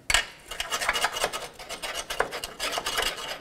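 A tool scrapes and rasps crud from the lower control arm mounting area of a 2003-08 Toyota Matrix, in quick, repeated gritty strokes up close, alone with no talking.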